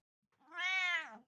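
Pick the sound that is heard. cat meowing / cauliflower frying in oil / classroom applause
cat meowing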